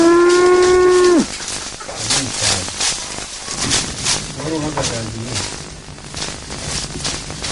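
A cow gives one loud, long, close moo at the start, then the sound drops to softer rustling, shuffling and faint background voices.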